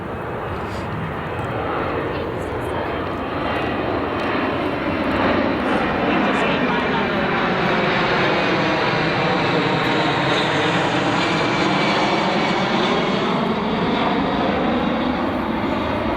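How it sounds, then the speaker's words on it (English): A jet aircraft passes overhead outdoors, a loud, steady roar that swells and slowly sweeps in pitch over about sixteen seconds, heard alone without speech. "Now let that jet finish going."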